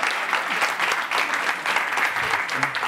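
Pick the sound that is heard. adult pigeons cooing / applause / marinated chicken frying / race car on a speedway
applause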